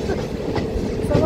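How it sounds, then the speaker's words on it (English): Passenger train running between Srinagar and Anantnag in Kashmir in winter, a steady rolling rumble with rhythmic clickety-clack of wheels over rail joints, heard from inside a carriage. "So this is the train I took from Srinagar to Anantnag."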